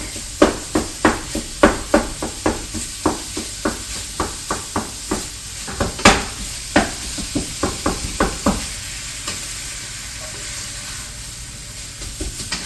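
Cornbread stuffing for a Thanksgiving casserole is broken up in a pan with a regular series of sharp utensil taps and scrapes over a soft sizzle, fading to a quiet hiss near the end.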